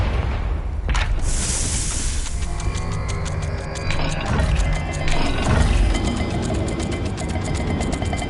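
A Confringo fire spell explodes in Hogwarts Legacy, a sharp whooshing burst followed by rumbling, crackling blasts and debris that carry on loudly through the whole stretch.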